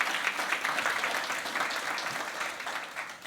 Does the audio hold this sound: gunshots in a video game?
no